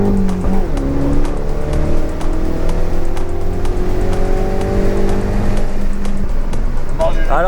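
A Mini John Cooper Works engine rumbles and pulls hard from inside the cabin, its rising drone steady throughout, with people talking over it.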